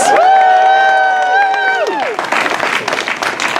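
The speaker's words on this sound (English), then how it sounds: "Give yourselves applause" A sustained sung voice holds a melodic phrase, then a theatre audience at a Julius Caesar performance bursts into clapping and cheering, a loud, busy wash of applause filling the rest.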